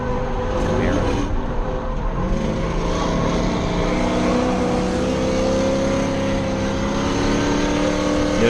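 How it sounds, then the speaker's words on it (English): Ford Mustang engines rev and whine continuously as the cars drift in tandem around barriers, a loud steady roar with shifting pitch throughout. "I love drifting around all these little barriers."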